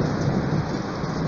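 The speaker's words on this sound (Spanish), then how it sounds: "Como suena la lluvia" Heavy tropical rain pours down in Arequipa, Peru, in a steady, dense hiss with a low rumble beneath it, continuous and close.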